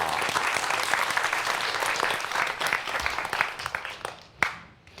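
Audience applause for a lecturer at a forensic science talk, dense steady clapping from a full hall that thins out toward the end, with one sharp clap standing out.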